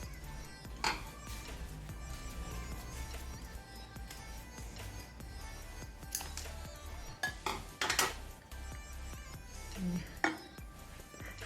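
A spoon stirs white buko salad with cream in a bowl, producing soft clinks and scraping taps at irregular intervals over a quiet kitchen background.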